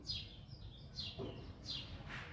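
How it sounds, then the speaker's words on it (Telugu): Birds chirp in a flower garden with cosmos and table roses, with repeated short high tweets at a steady rhythm, moderately distant, over a soft background hum. "బర్డ్స్ అరుస్తున్నాయి, చాలా బాగుంది వాయిస్."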